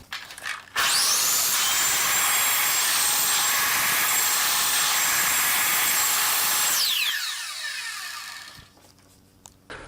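A power saw rips through a wooden blank for pyramid-top plugs, a loud high-pitched whining cut that holds steady for about six seconds and then spins down and fades, close and alone.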